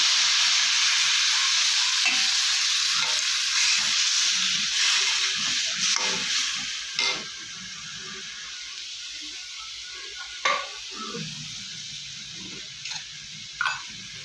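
Chopped onion sizzles steadily in a hot pan with fish roe and jackfruit seeds, a continuous close frying hiss with a few sharp stirring clinks and scrapes toward the end, no voices.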